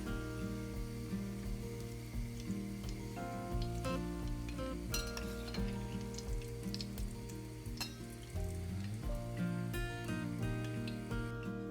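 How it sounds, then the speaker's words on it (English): Desi ghee tempering for kadi sizzles steadily in a pan, with occasional clinks of a utensil, heard under continuous music, faint and held throughout. "Let's temper with a bit of desi ghee."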